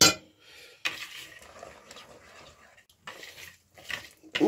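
A spoon works through batter as flour is added bit by bit for a quick homemade snack, giving scraping, clinking stirs in bursts, close and moderately loud with pauses between them.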